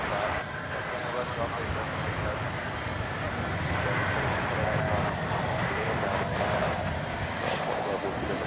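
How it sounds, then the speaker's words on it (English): A Turkish Airlines jet on Flight 192 to Istanbul roars as it takes off at night at Dallas Fort Worth airport, a broad sustained engine rumble with a faint high whine. "that was Turkish Flight 192 off to Istanbul"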